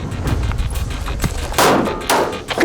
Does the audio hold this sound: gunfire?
yes